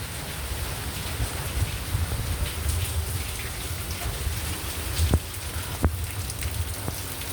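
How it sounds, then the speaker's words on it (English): A heavy rainstorm pours down steadily with a dense, even hiss, broken by a few sharper drip impacts around the middle. No one speaks. "This massive rainstorm just started a few minutes ago."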